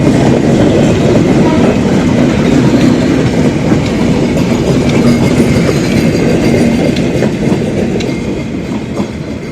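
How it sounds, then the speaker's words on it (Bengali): A Kushtia-to-Dhaka train rolls past close by: a loud, steady rumble with rhythmic clattering wheels, easing slightly toward the end. "কুষ্টিয়া থেকে ঢাকাগামী ট্রেনটা এই মুহূর্তে চলে গেল বা চলে যাইতেছে"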